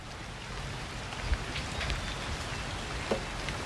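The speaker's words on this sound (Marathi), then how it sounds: "धाराशिव जिल्ह्यामध्ये मुसळधार पाऊस पडलेला आहे, ढगफुटी सदृश हा पाऊस बरसलेला आहे" Heavy cloudburst-like rain pours down in Dharashiv, Maharashtra, a dense, steady roar of rain beating on surfaces close by, with a couple of brief thumps and no voices.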